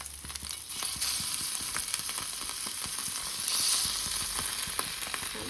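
Sardine curry paste crackling and sizzling in a hot pan, a dense steady frying hiss dotted with sharp pops and spits as moisture bursts, close and continuous with no voices.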